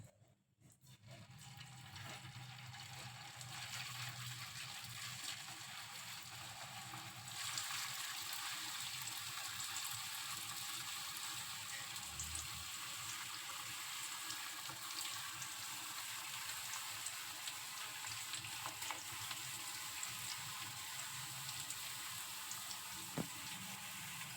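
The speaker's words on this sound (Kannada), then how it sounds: "ಇದು ಎಣ್ಣೆ ಇಟ್ಟಿದ್ದೀನಿ ಕಾದಿದೆ ಈಗ ಒಂದೊಂದಾಗಿ ಬಿಡಬೇಕು" Jackfruit kebabs dropped into hot oil fry with a steady, hissing sizzle that swells after a few seconds and holds at an even level, with faint kitchen clatter.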